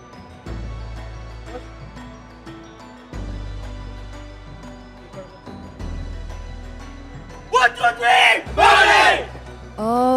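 A Malaysian esports team at an MPL MY Season 11 match shouts together in a loud burst of cheering and yelling near the end, after stretches of low hum and scattered talk.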